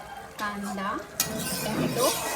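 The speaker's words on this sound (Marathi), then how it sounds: "आलं लसूणची पेस्ट मिरची फोडणीला कढीपत्ता" Ginger-garlic paste, green chillies and curry leaves sizzle in hot oil for a tempering. The sizzle is loud and close, with a burst of spattering midway and metal stirring sounds over it.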